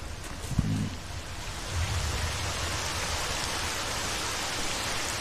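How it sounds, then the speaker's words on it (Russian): Steady rain falls in the S.T.A.L.K.E.R.: Shadow of Chernobyl game world, a broad even hiss with a brief low thump near the start and no voices. "Вполне можно дождь переждать."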